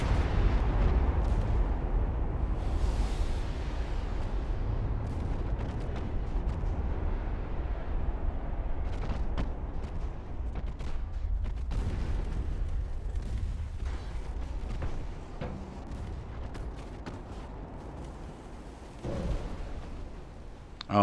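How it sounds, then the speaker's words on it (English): Ship ammunition detonation in Ultimate Admiral: Dreadnoughts, a destroyer blowing up during a naval battle: a heavy, rolling explosion opening with a deep boom, then long rumbling and scattered secondary bursts and cracks over about twenty seconds. "Oh no, ammo detonation on escape."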